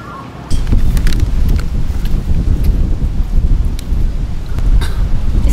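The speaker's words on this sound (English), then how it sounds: "Wind is not a vibe." Strong wind gusting against the microphone outdoors in Sydney, a loud rough low buffeting that surges and dips continuously after a brief quieter start, with faint clicks.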